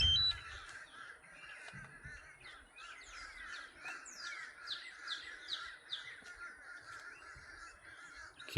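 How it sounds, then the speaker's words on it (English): Many crows caw repeatedly in overlapping harsh calls, a busy flock at middle distance over the steady high-pitched buzzing hum of a small drone. "Can hear all the crows interested in my drone."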